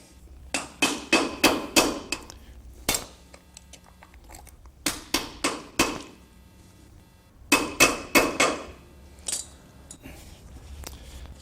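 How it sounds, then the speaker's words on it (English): A hammer taps a dust cover onto a vehicle brake assembly during a brake overhaul, sounding as sharp metallic knocks in quick bursts of four or five strikes, separated by short pauses. "You have to get a hammer and put that on a little tighter."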